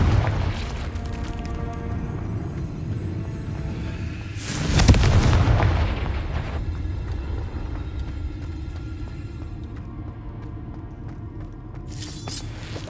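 A Confringo fire spell going off in Hogwarts Legacy, a video game, a deep booming blast around the middle that rolls off into a long rumble, set over a steady low game background with a fainter burst near the end.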